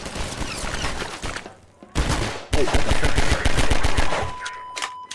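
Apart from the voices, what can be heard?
turret gunfire in video game Half-Life 2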